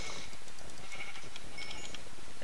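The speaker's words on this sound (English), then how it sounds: "Oh, wow, there's a lot of sheep here." Several sheep in the game Minecraft bleat in quick, overlapping calls, loud and close, over a constant background hum.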